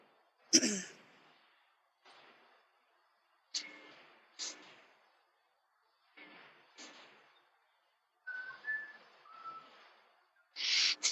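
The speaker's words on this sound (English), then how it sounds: "But I'm going to play the whistle for you." Faint, breathy whistle tones drift in short separated bursts with long silent gaps, hollow and distant as if echoing from deep inside a cave.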